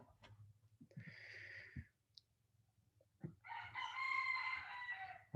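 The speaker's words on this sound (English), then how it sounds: "I don't know if you can hear the chickens, but they're very noisy" Chickens cluck and a rooster crows nearby in two loud bursts, with a quieter gap between them and a low steady hum underneath.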